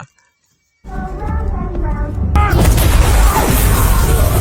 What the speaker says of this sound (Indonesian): Sebuah ledakan membuat beberapa anak buah McCaffrey tewas di sini